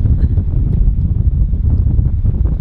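Strong wind gusting near 25 roars and buffets the microphone continuously aboard a sailboat, a loud, heavy rumble that surges and dips without a break.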